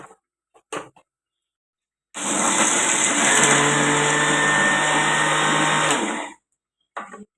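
A kitchen blender grinds biscuits and peanuts into powder with a loud, steady whirring roar for about four seconds, framed by short clunks and handling noises before and after.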